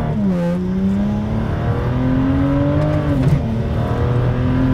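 A built 2011 BMW 335is with the N54 engine accelerates hard, its loud steady engine drone rising in pitch before traction control audibly cuts power, the note dipping and wavering; close, in-car, without speech.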